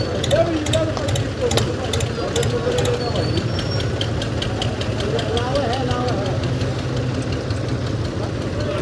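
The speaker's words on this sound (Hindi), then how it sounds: "ट्रैक्टर आ रहे हैं भाई।" Tractor engines idle and run steadily at an outdoor tractor pulling contest, a low rumbling drone with some knocking, under crowd chatter and talk.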